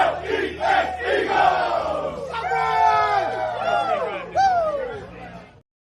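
A football crowd roars and cheers for the Philadelphia Eagles, a dense sustained wall of voices with rising whoops and yells swelling twice before cutting off abruptly.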